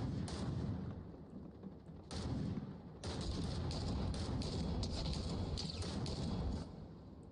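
Gunfire in a multiplayer shooter game, shots coming from condos near a gas station: dense, continuous rattling bursts of distant shots over a steady background rumble, with brief dips between volleys.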